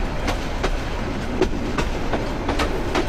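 A Dewanganj commuter train runs along the line, its wheels clacking in a steady rhythm over the rail joints above a continuous close rumble from inside the carriage, with no voices.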